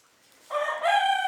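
Chickens in a freshly cleaned, vinegar-scrubbed coop give a short, loud burst of calls that rises sharply halfway through, sounding close and crowing-like rather than soft clucks.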